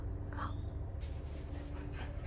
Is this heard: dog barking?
yes